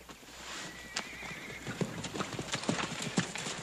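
Horse hooves clip-clop at a steady walking pace, with a short whinny early on and faint background noise.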